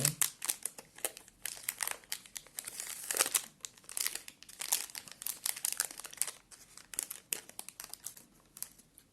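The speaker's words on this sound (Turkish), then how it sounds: "Hemen açıyorum paketi." Wrapper of an Ülker Dankek strawberry tart cake being opened up close, with steady crinkling and crackling plastic and a few tearing rustles, fairly quiet and without talk.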